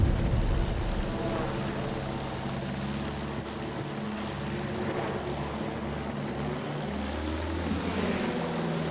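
Bristol propeller plane in the video game Battlefield 1 drones with a steady, continuous engine hum and whirring propeller tone, loud and unbroken for the whole stretch with no talk over it.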